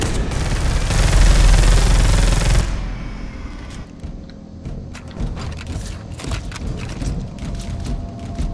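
A missile launcher fires in Space Hulk Deathwing, opening with a loud sustained roaring blast that cuts off, followed by scattered clanks and mechanical thuds at lower volume.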